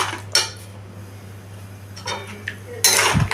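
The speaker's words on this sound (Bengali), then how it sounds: "দিয়ে মশলাগুলোকে আমি ভালো করে কষিয়ে নিচ্ছি" A spatula scrapes and clinks against a pan as chili, coriander and turmeric powders fry for a Bengali chana potol curry, with sharp metallic taps at the start and end over a steady low hum, and no talking.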